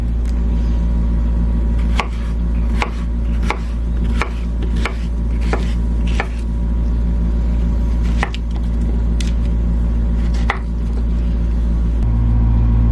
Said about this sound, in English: I'm just gonna use my blender because I don't even have a food processor